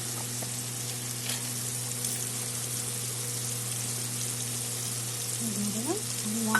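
Ground spices with onion paste frying in a pan for Bengali prawn curry give a steady, even sizzle that runs throughout, with a faint clink near the end.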